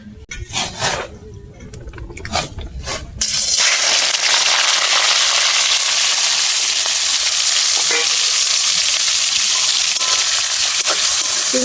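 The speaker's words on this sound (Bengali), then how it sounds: "আমি সর্ষের তেল দিয়ে দিচ্ছি কড়াতে চিংড়ি মাছ ভাজার জন্যে।" Shrimp drop into hot mustard oil in a wok, setting off a sudden loud, dense sizzle after a few seconds of clatter and handling noise, then a sustained roaring fry with occasional pops.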